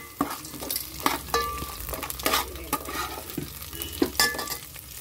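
Onions and sliced green chillies sizzle in a pan while a spatula scrapes and stirs them in repeated sharp strokes, close and fairly loud, with no talking.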